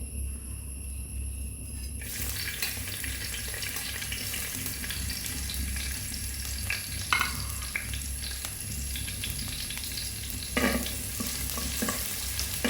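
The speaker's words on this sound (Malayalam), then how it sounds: "ഇനി വെളിച്ചെണ്ണ ഒന്ന് ചൂടായാൽ ഞാൻ അതിലേക്ക് വെളുത്തുള്ളി ചെറുതായി ഒന്ന് ചതച്ചതിന് ശേഷം അതിലേക്ക് ഇട്ട് കൊടുക്കുന്നുണ്ട്." Crushed garlic drops into hot coconut oil in a pan for a beetroot stir-fry, and a steady close sizzle starts after a quiet moment, with occasional light stirring knocks.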